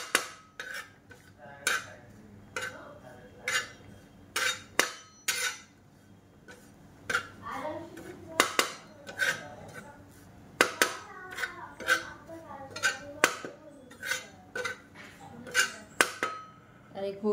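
Grated coconut roasting in a pan for misal pav, heard as repeated sharp spoon-on-pan clinks and scrapes in an irregular rhythm, close and fairly loud, with faint sizzle between strikes.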